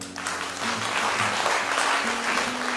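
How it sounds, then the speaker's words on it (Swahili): A church congregation breaks into sustained applause during an Easter sermon, a dense wash of many hands clapping together, loud and steady for a few seconds. "Tumpigie Bwana makofi."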